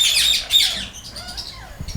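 Alexandrine parakeets of the Raw mutation in a breeding aviary give loud, harsh squawks in quick overlapping bursts, with fainter calls trailing off afterward.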